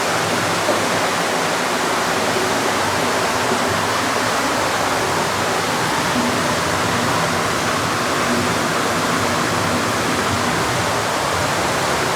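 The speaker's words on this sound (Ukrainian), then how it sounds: "Такий водоспадик або душик ще включився там." A small waterfall or shower runs at an indoor swimming pool, a loud, steady, broadband rushing of falling water that continues unbroken throughout, with no voices over it.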